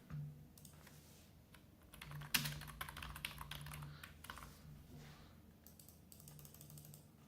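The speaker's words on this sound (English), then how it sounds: "I'm just going to type this out because it's quicker." Typing on a computer keyboard, quiet and steady key clatter with one sharper louder clack early on, over a faint low hum.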